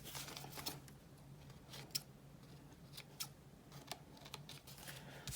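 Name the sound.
scissors snipping paper edges of book page pockets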